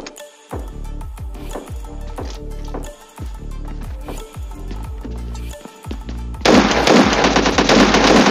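Automatic gunfire in the PUBG Mobile Lite video game: repeated loud bursts of rapid shots with short pauses between them, ending in a louder, denser sustained stretch of firing.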